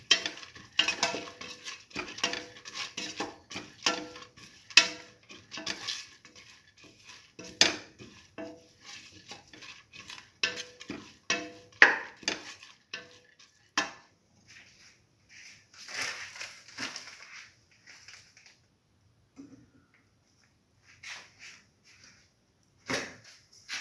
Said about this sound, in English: Put in salt to taste. Mix heavily.